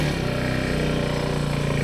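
SF250 motorcycle engine riding off-road in second gear, a loud, close, steady droning rumble with a buzzing pulse throughout.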